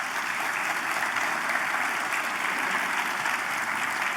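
Steady, dense applause from a large audience at a national town hall, continuous and loud throughout with no voices rising above it.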